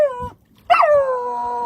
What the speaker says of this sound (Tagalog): di natin kilala kung kaninong aso to ano, kasi biglaan na lang siyang pumunta dito kanina eh